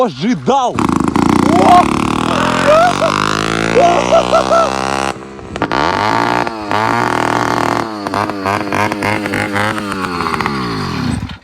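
A Chinese F-80 79cc petrol bicycle engine revs up and down in rising and falling bursts, close by and loud, while people talk over it.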